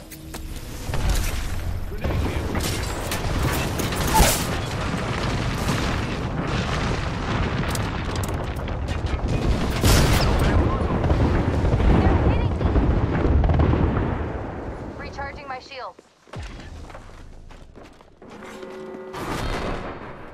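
Grenade explosions and gunfire in the Apex Legends video game, dense and continuous booms and shots filling most of the stretch, dropping briefly near the end before more bursts return.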